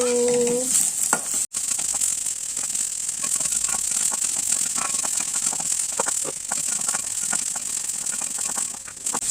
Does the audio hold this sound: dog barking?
no